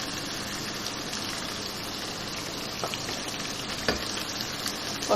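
Spices for mutton and potato salan (aloo gosht) sizzling in hot oil, a steady, moderately faint frying hiss with a few soft clinks and stirring knocks, no talking.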